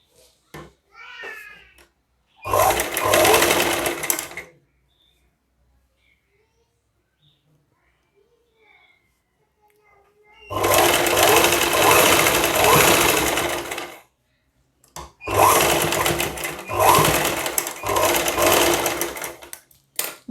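An electric sewing machine stitches a folded strip on an embroidered blouse, running in three loud bursts of rapid needle clatter separated by near-silent pauses, with a faint voice at the start.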